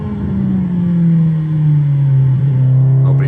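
A motorcycle engine pulling out of a tight, slow corner, its steady tone gradually shifting as it accelerates, loud and close throughout with no talk.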